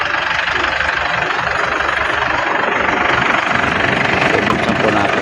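A Ford Everest diesel engine due for valve seal replacement idles steadily up close, a dense, continuous rumble with a rough knocking texture and no breaks.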